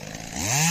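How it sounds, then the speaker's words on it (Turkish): Cordless battery-powered pruning shears with a brushless motor, used for olive tree pruning, give a close, rising motor whine that climbs in pitch and loudness as the blades engage. "Akülü budama makası diye geçer."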